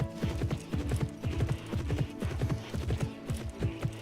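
Horse hooves in a horse-riding video game pound in a quick, regular galloping rhythm, close and clear, repeating steadily throughout without any voices.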